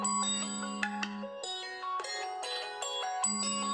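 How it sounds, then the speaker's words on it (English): Doro Handleplus 324GSM mobile phone ringtone, a clear electronic melody of stepped tones and chimes, close and fairly quiet, playing alone. "give it a couple of seconds and it'll start ringing."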